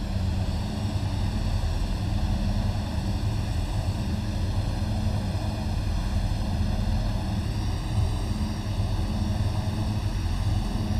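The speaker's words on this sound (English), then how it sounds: "Bring the engine up a little bit." The propeller engine of a Douglas World Cruiser in a flight simulator game drones steadily and loudly throughout, a constant hum of layered engine tones with a low rumble beneath and no one talking.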